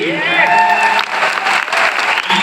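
An audience claps loudly and continuously at a company founder's event, dense broadband applause running throughout with a voice speaking over it at the start.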